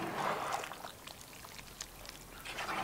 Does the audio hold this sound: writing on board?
no